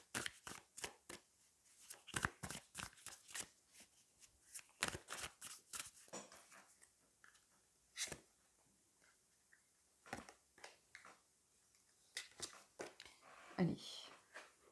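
Tarot cards being shuffled and drawn, with rapid bursts of crisp riffling and snapping in clusters separated by pauses, close and clear, with occasional single card slaps and quiet handling noise.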